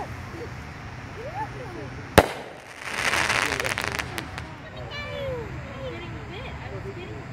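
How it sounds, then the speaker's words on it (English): Skymaster Firehawk sky rocket firework launching outdoors: a sharp single crack, then a loud rushing hiss and crackle lasting a couple of seconds, fading into ambient background with faint chirps. "Skymaster rocket, third rocket."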